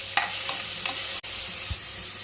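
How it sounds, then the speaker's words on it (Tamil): Ginger garlic paste sautés in hot oil in a pan for mutton gravy, giving a steady close sizzle and crackle, with a few stirring scrapes and one brief dropout partway through. "சேர்த்துட்டு நல்லா வதக்கிக்கலாம்."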